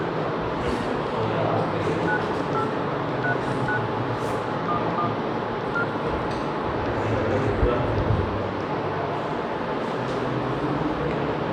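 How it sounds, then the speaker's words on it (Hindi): A mobile phone being dialed to place a call, with a series of short, evenly spaced keypad tones running over continuous classroom talk. "मोबाइल उठा दो जरा, प्रदीप सर को फोन कर दो।"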